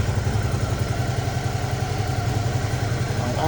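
Suzuki V-Strom DL 650 motorcycle engine idling while warming up, a close, steady low rumble with an even pulsing beat and no talk.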